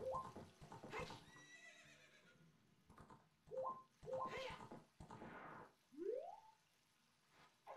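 Several loud horse neighs and whinnies from the Zelda: Ocarina of Time video game, each a shrill falling cry separated by short pauses, with no talking over them.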